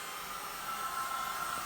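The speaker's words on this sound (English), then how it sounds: "So now we're going to heat up the slide a little bit with a hairdryer." A handheld hair dryer blows a steady, fairly faint whooshing hiss while warming a microscope slide of milk fat globules for a Brownian motion experiment. The airflow is constant and uninterrupted, with no one speaking.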